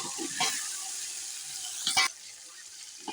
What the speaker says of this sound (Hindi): अब हम इसमें चिकन भून लेंगे।